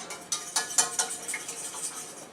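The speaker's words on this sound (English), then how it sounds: "I just use a little whisk." A little whisk stirs pesto in a bowl, giving a handful of light metallic clinks and taps at an uneven rhythm over a soft background hiss.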